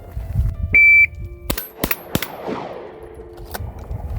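Several sharp pistol shots crack out on an outdoor range during an FBI pistol qualification course, spaced irregularly and fairly loud, with a brief electronic timer beep sounding before the first shot.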